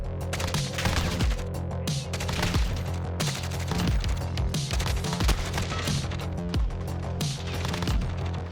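Dense, continuous gunfire from Call of Duty, with a long-range rifle loadout firing rapid overlapping shots over steady battlefield noise and a looping music bed, loud throughout with no talk.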